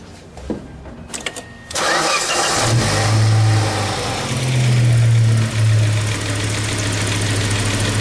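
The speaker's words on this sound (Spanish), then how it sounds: "Nos pide arrancar el motor, lo hacemos en este momento." A car engine is cranked by its starter motor during a diagnostic starter test, catches after a few clicks and a brief whir, revs up, then settles into a loud, steady idle close by.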